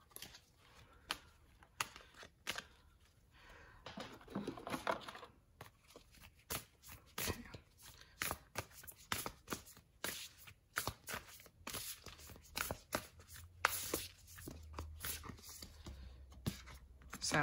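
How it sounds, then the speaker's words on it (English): Tarot cards shuffled and pulled for a collective reading, a run of soft, irregular papery flicks and slaps, close and quiet. "I'm gonna pull a few more cards."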